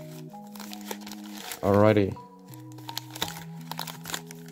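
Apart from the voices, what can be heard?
opening Pokemon card pack wrappers, crinkling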